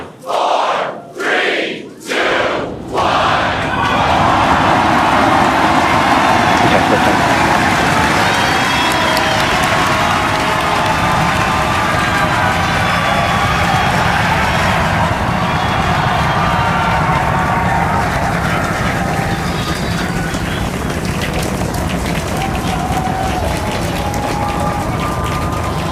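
Loud crowd cheering and shouting at a SpaceX Starship launch at Starbase, rising after a few short bursts into a sustained, dense roar that fills the whole stretch with little variation.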